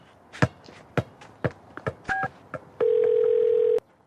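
A phone is dialed in a steady series of short tone bursts at roughly half-second intervals, followed by a long, loud steady dial tone that cuts off abruptly.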